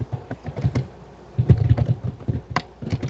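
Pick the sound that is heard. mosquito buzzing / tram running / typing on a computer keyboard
typing on a computer keyboard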